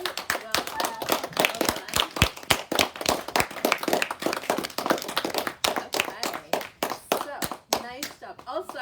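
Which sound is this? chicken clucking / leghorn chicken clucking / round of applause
round of applause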